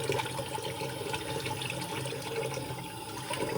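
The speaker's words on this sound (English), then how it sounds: "Rinse that out." Running water pours steadily from a tap as a face is rinsed after an at-home spa facial, a continuous close splashing hiss with no talking.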